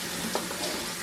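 Kitchen faucet running in a steady, close hiss of flowing water for about a second, with no voices over it.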